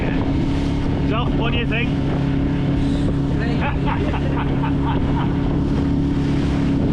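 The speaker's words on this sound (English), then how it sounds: "the wind's changed and now coming from the north. So we're heading straight into it back to port." Wind blows hard over a sailing boat heading straight into a north wind on the way back to port, a loud, constant buffeting roar and hum. Voices talk over the noise.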